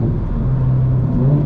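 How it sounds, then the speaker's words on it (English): A Toyota GR86 fitted with an MBRP exhaust sings a loud, steady engine drone with a sustained tone that lifts slightly near the end. "I just wanted to give you guys some high RPM shifting so you can know what it sounds like."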